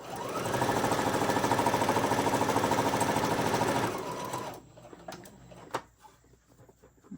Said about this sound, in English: Now normally I would stop when I'm sewing and not show every little stitch